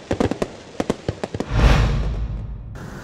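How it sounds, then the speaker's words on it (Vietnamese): New Year's Eve fireworks in Cà Mau, Vietnam, crackle as a rapid series of sharp pops, followed by a big booming burst with a long rumbling tail, loud and without speech. "Giao thừa năm 2024 tại tỉnh Cà Mau có 4 điểm bắn pháo hoa"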